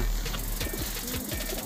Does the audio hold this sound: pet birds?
yes